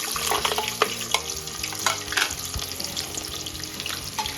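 Chopped onion hitting hot oil in a pan for a chana gosht curry, sizzling steadily with scattered clinks and stirring scrapes, close and fairly quiet.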